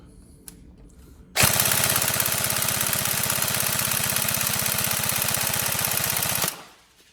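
Upgraded Tokyo Marui SCAR L NGRS airsoft electric gun firing one long full-auto burst, a loud close rapid buzzing rattle at a high rate of fire lasting about five seconds.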